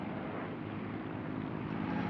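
Bomber aircraft heading for Berlin drone overhead, a dense, continuous low engine roar that holds steady at moderate loudness throughout, with no voices.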